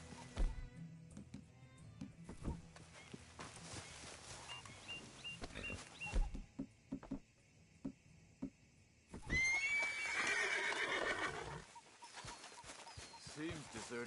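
Horse whinnying in the video game Red Dead Redemption 2, a loud rising neigh that stands out midway amid game ambience, hoof sounds and clattering, with brief talk around it.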